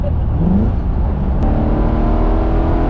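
The engine of a 1980 Corvette drones steadily and loudly as the car rolls along, a close, continuous low rumble with a slight rise in pitch partway through.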